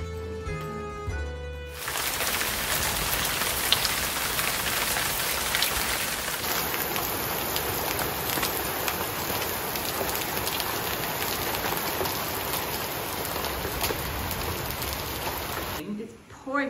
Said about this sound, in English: Rain and Carlo hasn't got a waterproof.